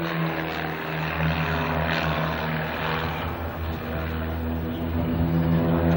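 Propeller aerobatic planes of a display team fly a loop in T formation, with a steady droning engine roar that swells slightly as they pass, heard at some distance.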